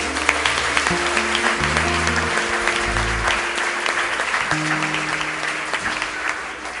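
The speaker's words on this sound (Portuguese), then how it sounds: "Você pode aplaudir Jesus por isso?" Church congregation applauds in a sustained, dense roar of clapping during a sermon, with an organ or keyboard holding tones underneath throughout.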